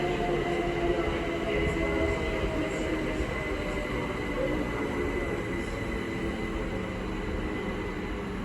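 A Class 387 electric train passes through Reading station on the Great Western Main Line, a steady loud rolling rumble and hum with faint wheel noise that holds at an even level throughout, with no talk over it.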